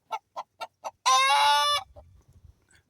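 A chicken in a crowded backyard coop gives four evenly spaced clucks, then a loud drawn-out squawk, trailing into softer scratching and muffled rustling, close and clear with no talk.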